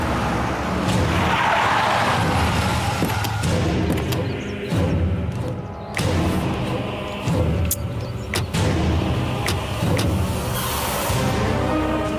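A car's tires skid and squeal as it brakes to a stop on a road, loud and close, with engine noise and scraping throughout.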